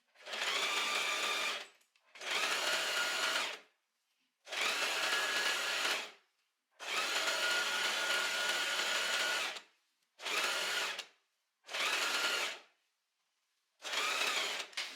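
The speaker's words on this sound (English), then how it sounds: "And now we're just going to sew a straight line until we reach our other side seam." Sewing machine stitching a straight seam on a white maxi dress, running in seven separate bursts of a few seconds each, with brief silent pauses between them, clear and fairly quiet.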